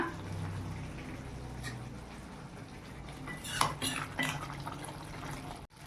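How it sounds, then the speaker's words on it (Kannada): Shahi paneer masala frying in oil in a pan, with a low steady sizzle under clattering scrapes and knocks of a metal spoon against the pan, close by and without voices. "ಈ ಎಣ್ಣೆ ಬಿಟ್ಕೊಳ್ಳೋವರೆಗೂ ನೀವು ಫ್ರೈ ಮಾಡ್ಕೊಳ್ಳಿ"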